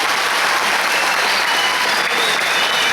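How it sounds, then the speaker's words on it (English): Steady, dense applause from a large audience at a rural quiz national final, loud and continuous throughout with no break. "They deserve a better applause."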